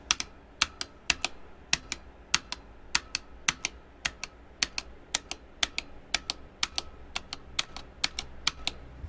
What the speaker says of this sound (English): It's using a metal backplate, which is also the reason why it has a lot of pinging.